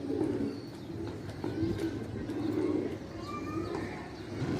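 Domestic racing pigeons coo softly at their loft in Karachi, a low repeated murmuring close by with faint chirps over a quiet background.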